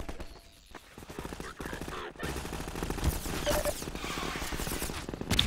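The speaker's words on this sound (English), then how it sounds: "Remember your machine gun has an alternate rocket fire." Machine gun fire in Half-Life 2, a dense, continuous burst of rapid gunfire with crashing game action, loud and sustained across the whole stretch.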